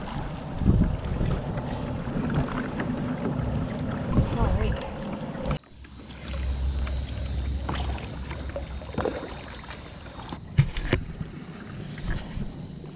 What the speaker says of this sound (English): getting the hang of this kayaking thing slowly but surely